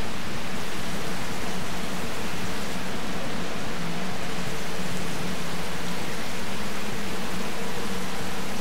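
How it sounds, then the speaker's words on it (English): Water rushes steadily through a level of the video game Call of the Fireflies, a loud, unbroken hiss like a waterfall or heavy rain that holds the whole stretch with no talking. "I must find a way to stop the water"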